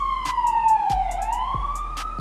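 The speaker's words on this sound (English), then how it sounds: "Sirens. Ugh, it's the summertime, y'all." A wailing siren sweeps slowly down and back up in pitch, fairly close and loud, with a few sharp clicks and knocks scattered underneath.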